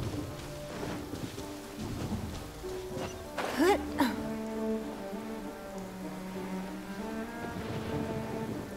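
Thunder cracks and rumbles over steady rain during a thunderstorm with lightning strikes in Genshin Impact, one sharp close crack near the middle, with music and game sounds layered beneath.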